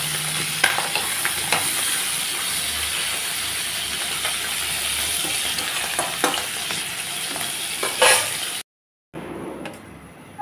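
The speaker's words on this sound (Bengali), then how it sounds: "ভেজে নিচ্ছি" Small fish sizzle steadily in hot oil in a pan at home: a loud, dense crackling hiss with scattered pops that runs unbroken for about eight seconds, then drops out briefly before resuming.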